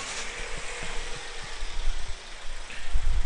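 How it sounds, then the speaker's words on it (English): A car engine starts and runs at a steady idle during a compression test, a continuous low rumble with a faint mechanical whir, close by and fairly loud, with no voices. "I'm going to start the engine up"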